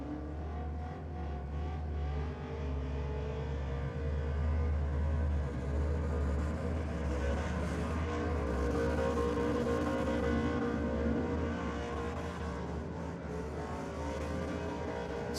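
A drag racing car runs at Sydney Dragway during a Friday night team challenge event. Its engine roars in a sustained, high-revving drone that holds steady and fairly loud throughout, with no voices over it.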